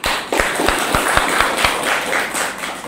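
A small class of students claps for a classmate in an English lesson, giving a short burst of scattered, uneven hand claps at moderate loudness over a roomy background hum.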